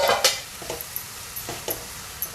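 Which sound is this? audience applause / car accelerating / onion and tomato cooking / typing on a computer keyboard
onion and tomato cooking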